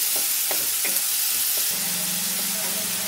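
Fish with salt stirs in hot oil, giving a steady close hiss and sizzle with a few brief clinks from the stirring.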